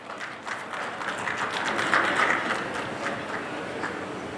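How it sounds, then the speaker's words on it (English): Sustained applause from a seated conference audience at a medical update event, a steady dense wash of clapping that swells slightly midway and holds at moderate loudness with no talk. "Once again, let us give a warm round of applause."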